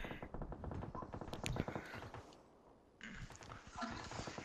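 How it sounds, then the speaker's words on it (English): Rapid gunfire crackles behind the players in the battle royale game H1Z1, dense bursts mixed with game noise and people talking over it. "A lot of firing behind us."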